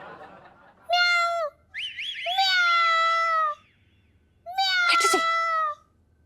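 A person imitates a cat, giving three drawn-out, wavering meows with a short break between each, the last one ending in a snicker.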